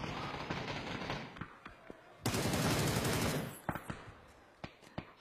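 SCAR assault rifle bursts in PUBG, a fast crackling volley followed by scattered single shots, moderately faint against game background.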